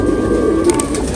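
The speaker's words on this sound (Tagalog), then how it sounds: "yan mga ka-amigo, mga kalapati natin" Pigeons coo inside a loft, a low, soft burbling coo close by under a steady, noisy background hum.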